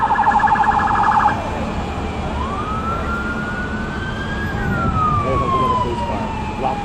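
An ambulance siren wails at a street scene in Coney Island, New York, opening with a fast warbling burst and then settling into a long rising and falling tone, loud and fairly close over steady traffic rumble.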